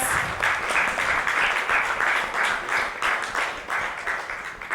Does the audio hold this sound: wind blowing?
no